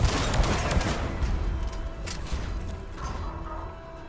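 Rapid gunfire with Overload and warp ammo in Mass Effect rattles loud and continuous, dense bursts of shots and mechanical clatter that fade slightly toward the end.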